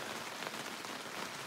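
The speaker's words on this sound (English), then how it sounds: "and it's raining again." Rain falls steadily on a backcountry campsite, a dense even patter close by with no other sounds.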